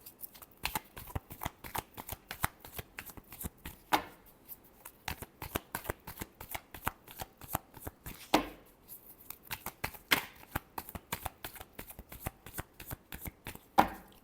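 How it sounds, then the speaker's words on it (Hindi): Tarot cards are shuffled by hand in a long series of crisp, rapid riffles and taps, close and fairly soft, with occasional louder slaps as the deck is squared. "Last shuffle."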